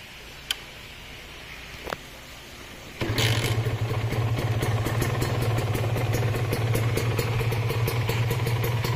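Serpico 150 motorcycle with its stock factory exhaust starts up and settles into a steady, loud idle with a low, even engine drone, following a couple of faint clicks beforehand.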